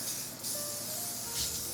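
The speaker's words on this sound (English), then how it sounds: "Now I'm going to spray on some olive oil" A steady hiss from an olive oil spray nozzle onto roast chicken, close by, with a brief louder burst midway and a faint background hum.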